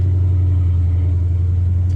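A Dodge Challenger ScatPack with long tube headers cruises in second gear beside a wall, its exhaust a steady deep, loud rumble with no voices over it.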